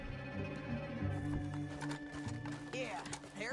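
Hooves of a horse in the video game Red Dead Redemption 2 clop in an uneven rhythm beneath game music and other in-game sounds, at moderate volume and partly masked.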